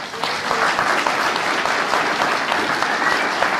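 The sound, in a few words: audience applause at a conference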